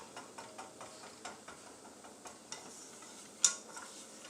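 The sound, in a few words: stirring a mixture with butter in a frying pan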